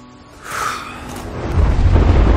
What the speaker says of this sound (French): Satané orage.